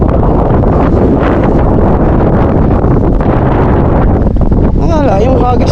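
Strong wind buffets the microphone outdoors near water in a loud, continuous rushing roar, with voices talking over it.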